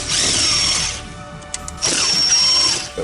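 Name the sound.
power driver removing Torx T20 screws from a Porsche dash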